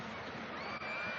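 A football crowd in the south stand of a stadium applauds during a 1993/94 Bordeaux versus Lyon match, a dense, steady wash of clapping and crowd noise heard at a distance, brief and continuous.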